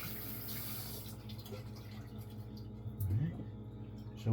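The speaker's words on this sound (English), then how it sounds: "So we get the strong flow of the tap water" Strong flow of kitchen tap water running over blackberries being rinsed, a steady broadband rush with faint handling and a brief louder splash near the end.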